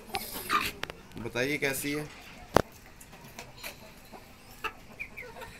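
Chickens cluck at a fowl show in Islamabad, with short, scattered cackles and one sharp squawk near the middle, fairly close. Someone speaks briefly over the start.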